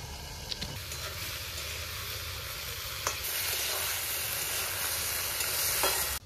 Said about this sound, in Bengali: এবার সবজিগুলো ঢেলে দেবো।